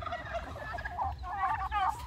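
Turkeys gobbling on a farm, a loud close flock call with warbling gobbles overlapping across the whole short stretch.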